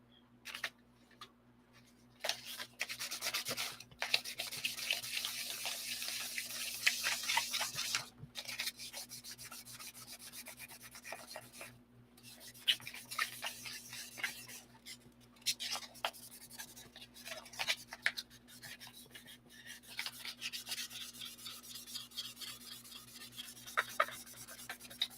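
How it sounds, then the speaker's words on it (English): Hand sanding with 800 grit sandpaper, quiet scratchy rubbing strokes in irregular bursts with short pauses, close up over a low steady hum, with no talking. "I'll sand these guys now. This is 800 grit, which is what I used on all the other ones."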